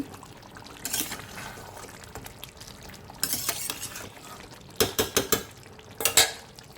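Red meat curry cooks in a pan on a home stove, with a few short bursts of stirring and scraping against a faint sizzle, spaced apart with quieter stretches between them.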